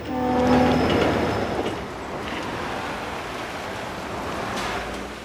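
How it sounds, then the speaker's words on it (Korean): A train rumbles past close by, its horn sounding briefly at the start, followed by a steady roar of wheels on rails that slowly fades. "이를 마치 안내라도 하듯 기차가 지나갑니다."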